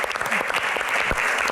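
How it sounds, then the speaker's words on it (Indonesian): Audience applause fills a short stretch, steady dense clapping from a crowd at a live talk event in Jakarta, loud and continuous throughout. "Mbak Yesi, tepuk tangan sekali lagi yang paling meriah teman-teman."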